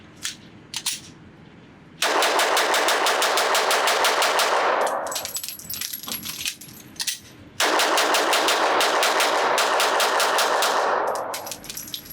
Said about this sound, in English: So if I just shoot this gun fast, how well will it work?